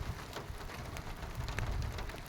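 Big raindrops hitting surfaces during a strong June thunderstorm, a steady faint patter with scattered sharper drop impacts and no voices.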